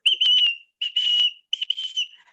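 A shrill whistle is blown in three bursts, each a steady high tone with fluttering trills, loud and close with short gaps between.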